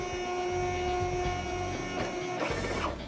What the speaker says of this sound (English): The printer feeds a few labels and automatically calibrates that label.